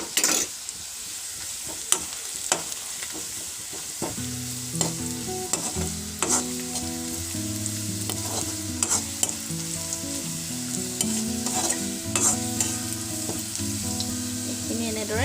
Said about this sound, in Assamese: ভাজি আছোঁ আৰু অলপ ৰঙচুৱা হ'বলৈ মানে আৰম্ভ হৈছে